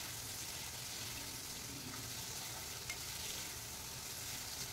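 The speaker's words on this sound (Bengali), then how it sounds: "একটু চামচ দিয়ে ঘোরাঘুরি করবো, ঘোরাঘুরি করে নাড়টা ভাজা হবে" Vegetables with turmeric frying in a pan for an amaranth greens and potato dish, a steady soft sizzle with faint spoon scrapes and stirring, quiet and continuous with no talk.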